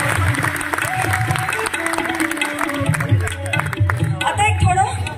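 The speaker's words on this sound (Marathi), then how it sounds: "बघा आवडला असेल तर जोरदार मनापासून टाळ्या वाजवा" An audience at the Ellora Ajanta International Festival claps through a performance, steady applause filling the space while a voice speaks over it and music tones hold underneath.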